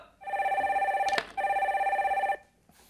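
Telephone bell rings for an incoming call during a call-in stock advice program, two loud bursts of steady electronic trilling separated by a brief click, with no talk over it.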